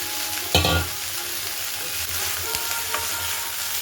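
Onion stalks being stir-fried with potato, cauliflower and beans in a pan give a steady sizzle, with a sharp scrape and clatter of a spatula near the start and a few lighter stirring clicks later, no voices.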